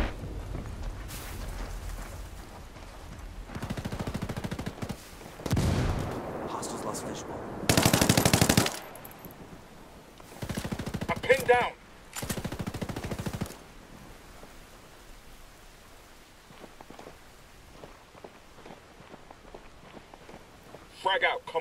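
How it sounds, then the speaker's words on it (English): Bursts of heavy machine-gun fire in Ghost Recon Wildlands, loud intermittent volleys separated by quieter gaps with footsteps and movement, while voices talk between the shots. "Under heavy fire."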